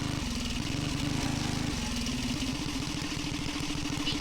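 A small engine on a homemade 2-wheel drive minibike labours continuously up a hill on a golf course, a loud, close, buzzing drone whose pitch holds steady and shifts slightly midway.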